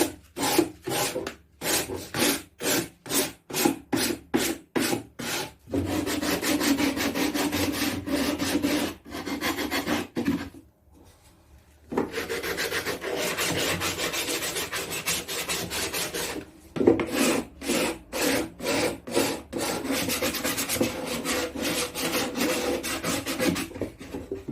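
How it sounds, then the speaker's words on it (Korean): Hand sanding with 150-grit sandpaper along the rough curved edges of cut wood pieces during a furniture makeover, steady close rasping strokes in rhythmic bursts, some long continuous passes, with no talking. "150방 사포를 이용해서 재단된 목재에 지금 매끈하지 않은 곡선 다듬어 줄게요."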